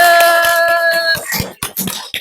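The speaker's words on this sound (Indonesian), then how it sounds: "Tepuk tangan dulu dong." A classroom of students in an Islamic religious education lesson breaks into a short round of hand claps, sharp close slaps arriving after a sustained tone fades, lasting about a second.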